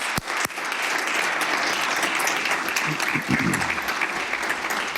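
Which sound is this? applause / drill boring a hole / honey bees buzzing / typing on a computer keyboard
applause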